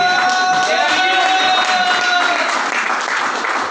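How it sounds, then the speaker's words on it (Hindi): An audience at a paint-business training program claps, a dense wash of many hands applauding steadily and fairly loudly, slowly thinning toward the end, with faint tonal hum underneath. "शायद कुछ लोगों को समझ नहीं है, इसलिए ताली कम बजा रहे"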